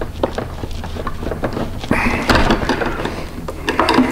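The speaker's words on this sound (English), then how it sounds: "You just want to remove that screw, and then we can twist and turn and take that headlight bezel off." Close mechanical clicking and ratcheting while a Phillips head screw is backed out of a stock headlight bezel, followed by louder rattling handling of parts.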